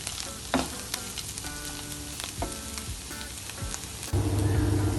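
Bitter gourd curry frying in a pan, a continuous sizzle with scattered stirring scrapes and clinks, getting louder and denser near the end.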